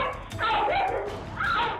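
A pit bull barks and yips in a short, close burst of a few sharp barks with some whimpering tone, loud and alone without talk.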